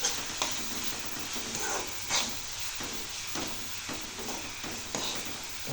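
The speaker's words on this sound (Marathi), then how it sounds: "रेडिश झाले की लगेच वरनं कांदा टाकून घ्यायचा आहे. कांदा टाकत आहे." Onions fry in hot oil with spices for egg masala, a soft, steady sizzle broken by regular stirring scrapes and clinks. Fairly quiet, with no talking.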